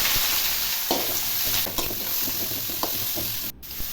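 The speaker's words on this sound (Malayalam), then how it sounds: "ഇനി നമുക്ക് അരിഞ്ഞു വെച്ചിരിക്കുന്ന സവോള ഇട്ടൊന്ന് വഴച്ചെടുക്കാം" Chopped onions sautéing in hot oil after mustard seeds have popped, for a Kanthari chicken dish, giving a steady close sizzle with occasional stirring clicks and scrapes, no voices.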